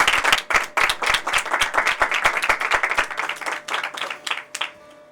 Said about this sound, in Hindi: आपकी भरपूर तालियों में कम नहीं होनी चाहिए।